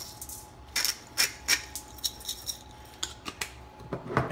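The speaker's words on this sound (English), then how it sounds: "We're gonna crack in some pepper" A hand pepper grinder cracks pepper over longganisa sausage mix, making a series of sharp, rhythmic crunching clicks in quick succession, close and clear, with no talking.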